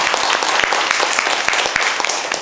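Audience clapping at a talk concert held in Mungyeong, a dense burst of applause with distinct sharp hand claps standing out, loud and close, lasting a couple of seconds without speech.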